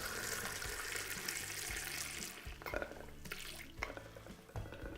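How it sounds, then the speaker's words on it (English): Distilled water pouring into a beaker holding a soil sample in a lab, a steady splashing stream running throughout the five seconds at moderate level with no talk. "Now I'll add distilled water to about the 3/4 level."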